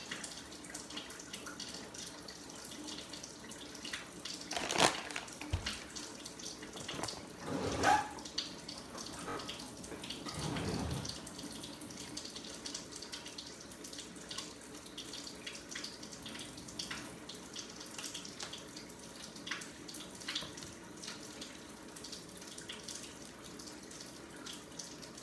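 Hot tap water running into a sink for bread yeast, a continuous faint splashing flow with a few louder clattering bursts early on.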